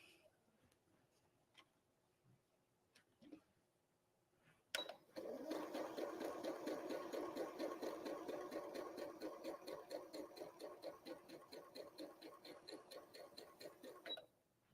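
A sewing machine stitches quilt binding strips in one steady, fast-ticking run of about ten seconds, close and fairly loud, after a few quiet seconds of small handling noises.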